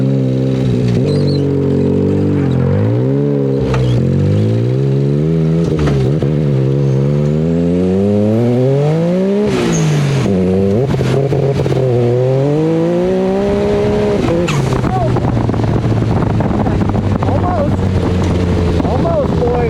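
A tuned 300hp-plus Mirage buggy running 30 psi of boost accelerates hard along a trail, its engine note climbing in loud repeated rising sweeps through gear changes, with wind buffeting the microphone throughout.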